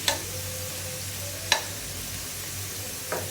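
Potatoes fry in hot oil, like French fries, with a quiet, steady sizzle broken by a few sharp stirring clicks.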